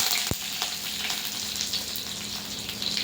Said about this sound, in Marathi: तेल तापलेलं आहे मोहरी टाकून घेऊया जिरे हिंग टाकायचा आहे कढीपत्ता